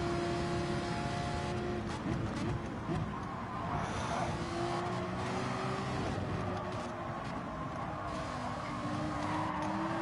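A Ferrari V8 race car in Gran Turismo 7 drones and revs steadily through a simulated race at Suzuka, with engine pitch rising and falling while other cars run alongside.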